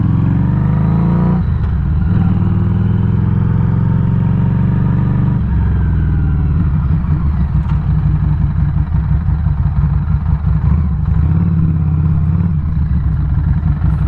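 A Harley motorcycle rides along outdoors, its engine droning steadily and loud throughout with low rumbling and shifting revs, no talking over it.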